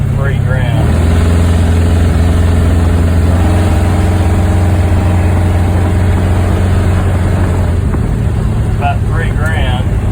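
A 1963 Pontiac V8 with an air-fuel ratio gauge and new kickdown switch runs loud and steady near 2,000 RPM, then rises slightly toward 3,000 RPM, with someone talking over the engine.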